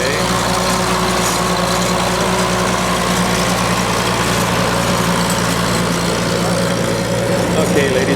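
A 1930 Farmall Regular tractor engine idles at a vintage tractor show, a steady low rumble with a constant drone that holds loud and even throughout.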